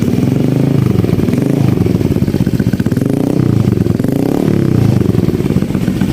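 A modified motorcycle exhaust revs continuously at close range, a loud throbbing sound that swells and dips in a couple of throttle surges.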